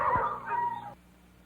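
Dogs in a 1972 Ford Courier TV commercial let out a short yip and whimper, close and brief, then fall quiet.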